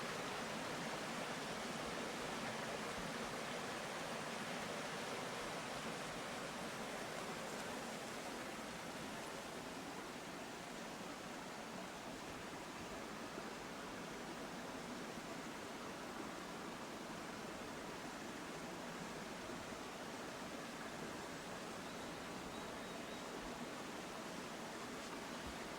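A Sardinian mountain stream in rugged terrain rushes steadily as a broad, even wash of flowing water, unbroken and without voices for the whole stretch.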